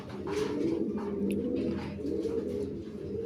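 A pair of Danish running pigeons coo softly, low throaty rolling calls close by, with a few faint chirps in the background.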